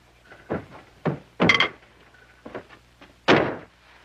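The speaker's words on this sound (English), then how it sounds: "Will you close this door" An indoor door being shut, heard as a series of dull wooden thuds and knocks of varying loudness, with two heavier bangs standing out among quieter taps.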